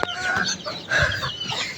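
Hens cluck in short, scattered bursts close by, with a busy farmyard murmur underneath and no talking.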